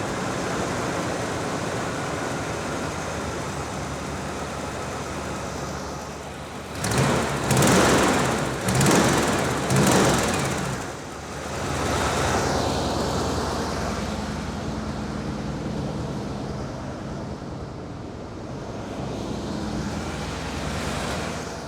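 A 1986 Ford F150 with fuel injection idles steadily at close range, its engine a continuous low rumble, with a few brief throttle swells near the middle before it settles back to idle.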